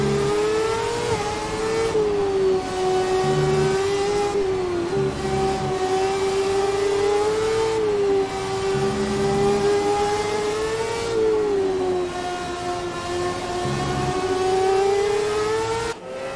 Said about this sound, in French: Ce son de ce V8 hybride Ferrari qui ronronne bien au cœur de cette Haas.